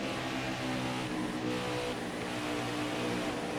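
A race car engine in the video game NASCAR Heat 5 at Charlotte Motor Speedway, a steady, sustained engine drone with a faint rise in pitch, heard alone and evenly loud.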